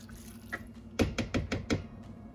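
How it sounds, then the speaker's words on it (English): A spoon stirs a sweet pepper casserole in a pot, giving about five quick wet clunks against the pot's side in a steady rhythm, close and moderately loud with no talk. "So we're just going to give it a stir."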